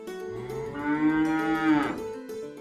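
A cow lets out a single soft, drawn-out moo lasting about a second, rising gently and then fading, heard close and alone with no talking.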